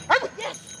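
A firefighter's working dog gives a short, close bark, then a couple of softer whimpering yips, heard alone.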